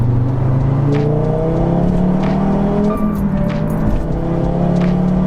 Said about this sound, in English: Like the inline 5, the 5-cylinder engine is just, it's just so unique.